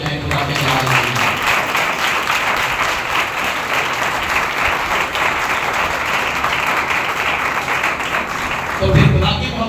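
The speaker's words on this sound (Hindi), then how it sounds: "जोरदार तालियां बजाएं खुदा के नाम में" Loud, continuous clapping from a church congregation during a Sunday service rolls on steadily for nearly ten seconds, with a brief thump and voices near the end.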